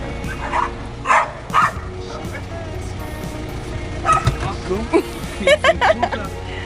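Stray dogs in Romania bark in short bursts, some near and some farther off, with yips mixed in over a low background of traffic.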